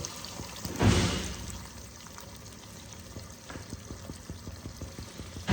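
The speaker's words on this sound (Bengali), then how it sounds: "এবার আমি পরিমাণ মতন জল দিব।" Water poured into a pan while cooking Bengali rui posto, a short splashy rush near the start that settles into quiet simmering and small bubbling sounds, heard close with no talking.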